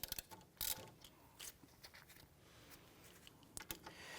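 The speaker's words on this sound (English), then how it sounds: "Want to remove these bolts." Rapid clicking of a ratchet wrench in short bursts removing 14mm brake caliper bolts on a 2011-2015 Kia Sorento, close and fairly quiet, with irregular metallic clacks between strokes.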